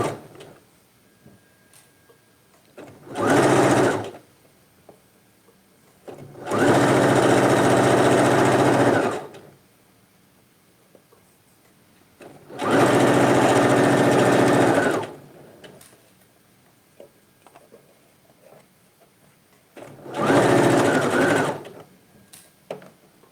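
Domestic sewing machine stitching a pair of pants: four separate motor runs, a short burst then longer steady whirring passages with quiet pauses between, close and fairly loud with no talk.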